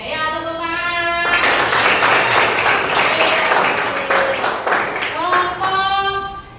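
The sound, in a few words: classroom applause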